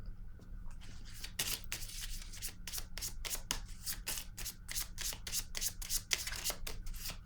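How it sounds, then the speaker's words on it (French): A tarot card reader handling and laying down cards, a quick run of sharp, close snapping flicks and riffles in fast rhythm, no talking. "Je vais déposer une autre carte par curiosité."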